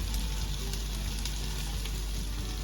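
Onion, garlic and ginger sizzle steadily in a pan as coconut oil is poured in for a mutton bone curry, a close, continuous frying hiss with no talking.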